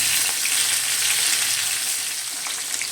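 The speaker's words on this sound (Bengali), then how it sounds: "এক এক করে মাছগুলো তেলের মধ্যে দিয়ে দেব" Khoira fish sizzles and crackles in hot oil, a steady close hiss with no talking.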